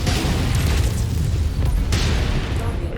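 A destroyed target explodes in the MechWarrior 5 video game: a loud, deep rumbling blast that fills the whole three seconds with sustained crackling roar and no voices.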